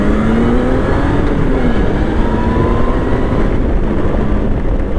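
A Honda Valkyrie six-cylinder muscle cruiser motorcycle accelerates hard on a test ride, its engine a loud, steady roar with a rising pitch, heard up close over heavy wind noise.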